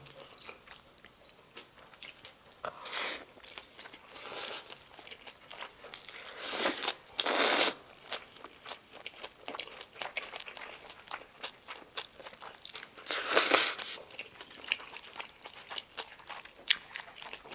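Jokbal (braised pork trotters) and spicy buljok eaten with jjolmyeon chewy noodles, close-up biting and chewing with several loud crunchy bites and wet mastication sounds spread throughout, no talking.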